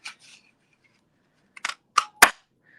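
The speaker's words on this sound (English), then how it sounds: "take that small heart, and I'm going to cut 3 of them." Scissors snip small paper hearts out one after another, three or four crisp cuts clustered close together after a quiet pause, with a faint rustle of paper at the start.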